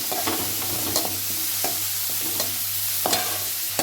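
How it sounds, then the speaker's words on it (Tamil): Onions sautéing with salt in a pan, a continuous close sizzle with repeated scraping stirs and light utensil taps, no talking. "உப்பு போட்டோம்னா வெங்காயம் கொஞ்சம் சீக்கிரமாக வதங்கிடும்."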